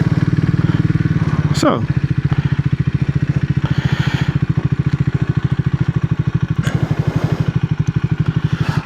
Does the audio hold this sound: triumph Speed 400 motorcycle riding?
yes